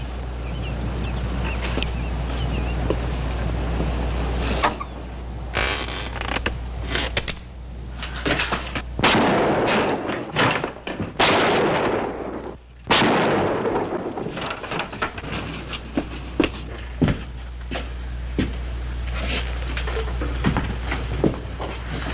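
Gunshots ring out in a western film scene, with several sharp, loud blasts clustered in the middle over a steady low rumble.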